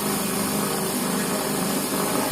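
A power tool grinds a custom copy-cam camshaft for a four-stroke motorcycle engine, giving a steady, loud, continuous whir close by with no pauses.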